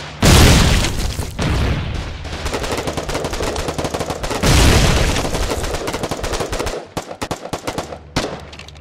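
Mortar explosions and heavy gunfire in the war game Foxhole, loud dense booms with rapid bursting fire throughout, big blasts near the start and mid-clip, then choppier pops toward the end.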